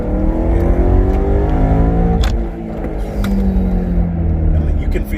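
BMW E92 M3 on KW HAS coilovers accelerating on a test drive, engine note rising through revs with a brief dip as it shifts, then climbing again; loud and close, with someone talking over it.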